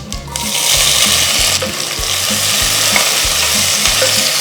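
Sliced small shallots frying with popping mustard seeds in hot oil for tomato kadayal, a loud steady sizzle close up, with a spoon stirring in a regular repeating rhythm.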